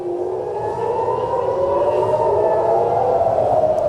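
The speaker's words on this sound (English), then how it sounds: "You're hearing the sirens." An air raid siren in Tel Aviv sounds in a loud, steady wail that gradually rises in pitch, continuous for the whole stretch with no talking.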